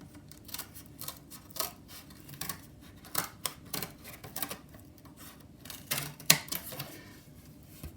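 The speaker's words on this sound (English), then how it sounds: "using your scissors, cut that heart out" Irregular crisp snips and crunches of scissors cutting a heart shape out of cardboard come in short bursts with small pauses between.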